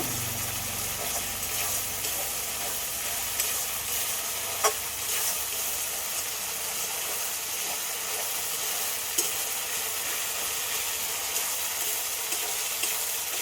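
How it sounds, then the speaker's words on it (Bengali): Spice paste being fried down in a pan for a chicken curry, a steady even hiss of sizzling oil throughout with a few faint stirring clicks, close and unbroken, no speech. "মশলাটা ভালো করে কষে নিয়েছি"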